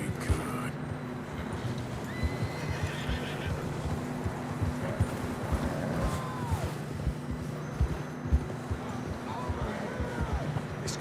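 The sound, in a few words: horses galloping, from video game Red Dead Redemption 2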